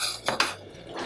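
Sweet and sour chicken is stirred in a pan, giving two quick metallic clinks of a utensil against the cookware over a soft background sizzle.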